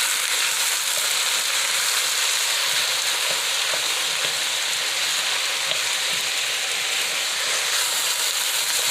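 Ground beef and vegetables fry in a pan with a steady, dense sizzle and hiss that holds at an even loudness throughout, with no voices.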